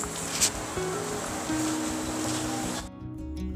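Sea waves washing onto a shore, a steady broadband wash with a brief louder surge near the start, dropping away abruptly before the end.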